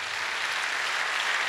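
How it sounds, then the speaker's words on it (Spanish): A church congregation claps during a sermon, a steady, dense wash of many hands at moderate level with no voices over it. "Dale un fuerte aplauso al Señor"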